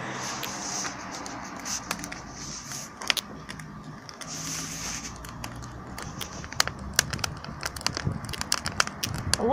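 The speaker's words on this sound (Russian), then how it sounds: "лучше звук костра послушать" A campfire crackles steadily outdoors with sharp pops and snaps scattered over a low hiss, loudest near the end, with no voices.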